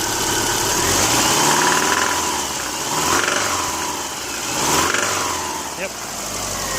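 A Subaru EJ253 engine idling after running out of oil, with a rough, rhythmic rod knock from the bottom end. It sounds close and loud under steady engine noise.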